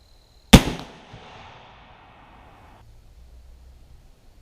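A Jukar .45 caliber Kentucky black powder rifle fires once, a single sharp loud boom that rings out briefly into a fading rumble, then quiet outdoor air.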